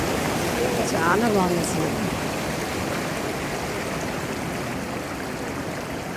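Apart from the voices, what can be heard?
sea waves washing over rocks at Kanyakumari beach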